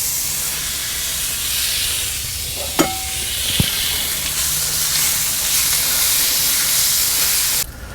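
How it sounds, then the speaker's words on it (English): Half a pound of chopped bacon sizzling on a hot griddle, a steady close hiss and crackle throughout, broken by a brief clink of a utensil near the middle. "I'm going to put a ½ pound of chopped bacon on here"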